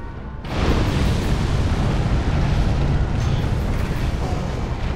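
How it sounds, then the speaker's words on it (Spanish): A loud explosion in the video game Dark Souls, one sudden blast followed by a long rumbling roar that stays heavy and sustained for several seconds without fading much. "La explosión dichosa."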